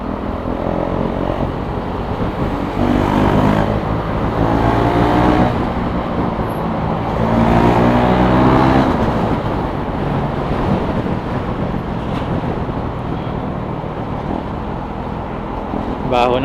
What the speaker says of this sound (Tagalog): Daming kotse ngayon.